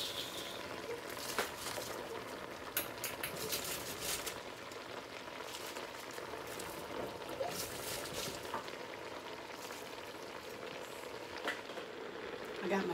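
Cabbage simmering in a pot on a home stove, giving a steady sizzling, bubbling hiss with scattered crackles that stays constant throughout, close and moderately loud, with no talking.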